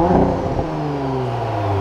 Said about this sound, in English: let's see if you can guess based on the startup. It is a stock exhaust.